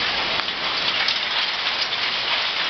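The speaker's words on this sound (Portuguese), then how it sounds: "Chuva de granizo, amor." Dense, steady hail with large stones pelts the ground and surfaces in a constant hissing clatter, loud and close, with no voices, in Ribeirão das Neves, Brazil.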